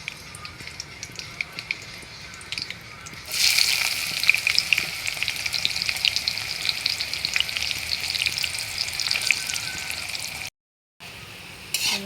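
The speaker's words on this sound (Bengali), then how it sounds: "দেখো পেঁয়াজটা আমার ভাজা হয়ে গিয়েছে," Onions frying in oil with bay leaves, beginning with a sudden loud sizzle as they hit the pan and continuing as a close, crackling hiss with stirring, cut by a brief gap near the end.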